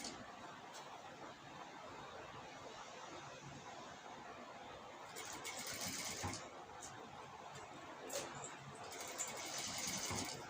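A sewing machine faintly stitches lace around the neckline of a star-neck cross-cut blouse, a soft continuous whir under a noisy background that grows slightly louder partway through.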